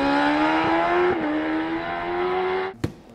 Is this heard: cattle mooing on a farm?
no